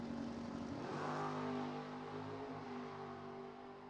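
The Roadrunner drag race car accelerates off the line at a classic drag race, its engine note rising and droning steadily, faint and somewhat distant.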